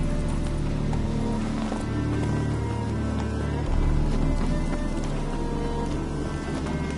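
Roach, Geralt's horse in The Witcher 3: Wild Hunt, galloping with steady rapid hoofbeats under a dense bed of game music and ambience, loud and continuous throughout.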